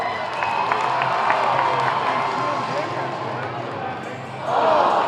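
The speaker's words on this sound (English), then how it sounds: "Rocket fans, cheer him on" Basketball fans cheer and applaud through a halftime half-court shot contest, a loud indoor crowd roar with a swell of cheering near the end, an announcer's voice heard over it.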